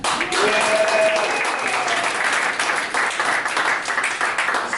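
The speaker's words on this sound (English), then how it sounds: "Give it up for Jeffrey one more time." A comedy club audience at Broadway Comedy Club breaks into loud, sustained applause with whoops and cheers, then the clapping slowly fades.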